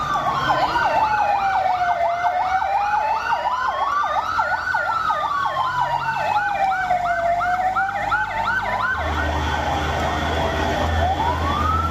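An ambulance siren wails loud and continuous for the whole stretch, rising and falling over passing road traffic. The ambulance is carrying bodies recovered by rescue teams through the Meppadi area.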